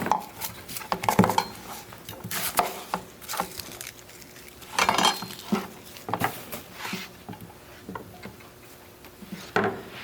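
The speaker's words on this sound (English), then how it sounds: "So to cut an onion, you're going to cut it in half" Knife cutting an onion on a board: irregular soft taps and thuds at close range, some in quick clusters and some spaced seconds apart, over a quiet room with no talk.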